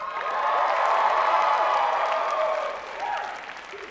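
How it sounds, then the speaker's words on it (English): A crowd applauds and cheers after a freestyle dance performance at a dance show, dense sustained clapping with whoops that swells and then gradually tapers off. "Another round of applause for PhiNix Freestyle."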